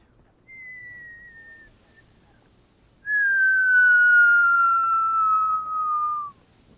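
A person whistles two sustained, steady tones, the first short and softer, the second long, louder and slowly falling, with quiet pauses around them.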